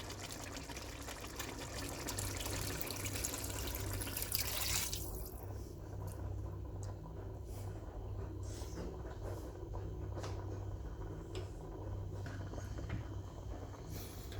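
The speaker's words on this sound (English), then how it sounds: "we add in the beef stock" Beef stock pours into simmering tomato sauce for a Bolognese, a steady close liquid rush that cuts off after a few seconds, leaving a quiet bubbling with faint clinks.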